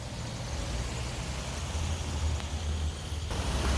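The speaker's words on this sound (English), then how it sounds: "here comes the 705 to Devonport" A bus on the 705 route to Devonport pulls in with a steady, low diesel rumble that swells slightly toward the end, close by and continuous, with no voices.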